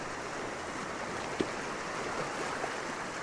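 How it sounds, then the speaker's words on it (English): Storm-driven sea waves crashing over coastal rocks, a steady broadband wash of surf with a faint splash or two, heard at moderate distance without talk. "these waves crashing over the rocks add a bit of interest"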